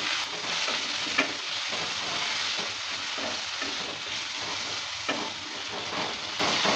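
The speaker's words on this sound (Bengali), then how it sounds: "ঢাকনাটা তুলে নেওয়ার পর নেড়ে চেড়ে নিচ্ছি।" Potatoes frying in a pan are stirred, giving a steady, close sizzle with scraping spatula strokes throughout, no voices.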